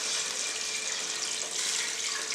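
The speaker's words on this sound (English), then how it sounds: "So we are going to add water." Water pours steadily into a pot of browned beef bones, onions and carrots for brown beef stock, a continuous close hissing splash with no talking.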